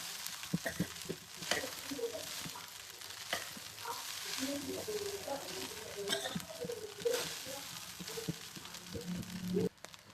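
Paneer cubes frying until brown for vegetable paneer fried rice, a soft steady sizzle with scattered scraping and clinking of a spatula, fairly faint and close, with a brief murmur of a voice in the background.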